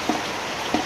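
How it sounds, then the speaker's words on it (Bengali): Water leaking through a roof drips into a pot set beneath it, two distinct close plinks about half a second apart over a steady wash of rain. "শব্দটা দেখেন না, টপ টপ, এটা কইটা পাতা হয়েছে, কইটার মধ্যে জল পড়তেছে তো"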